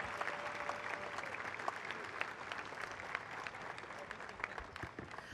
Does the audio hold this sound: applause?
yes